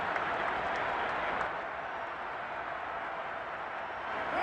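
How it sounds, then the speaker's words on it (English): Stadium crowd at a football game cheering and applauding the defense after it forces a fourth down, a dense, steady roar of clapping and voices filling the whole stretch. "How about some applause for the defense there?"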